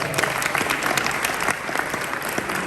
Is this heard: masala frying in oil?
no